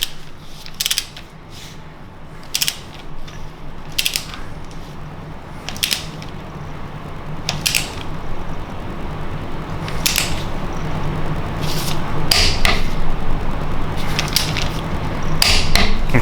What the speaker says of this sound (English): let's tighten up this bolt.